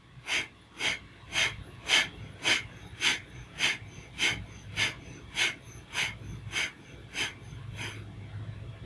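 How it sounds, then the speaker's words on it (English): Deep rhythmic breathing during a yoga pumping exercise, about fifteen quick forceful breaths at an even pace, close and clear over a quiet low background hum. "Nice breath, inhale."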